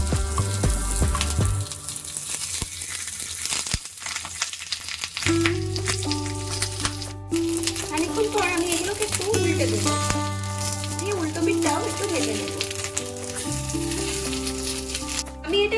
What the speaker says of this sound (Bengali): বেশিক্ষণ ভাজবো না তাতে ছানাটা শক্ত হয়ে যাবে হালকা ভেজে তুলে নেব